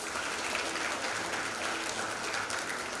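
Audience at a 2024 university graduation ceremony applauds the graduates: dense, steady clapping from a large crowd fills the hall at an even level from start to finish.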